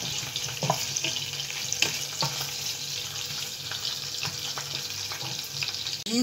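Yam stew sizzles and crackles steadily in a hot saucepan, a continuous frying hiss with occasional sharper pops and faint clinks, close by.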